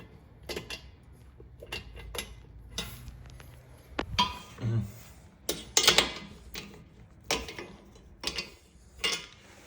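Bolts are tightened while a wall-hung toilet is installed, giving a series of close metallic ratcheting clicks and clanks in irregular bursts with short quiet gaps.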